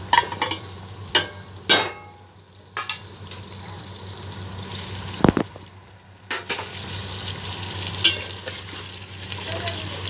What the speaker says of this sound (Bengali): এবারে আমি ভেজে রাখা আলুগুলো দিচ্ছি।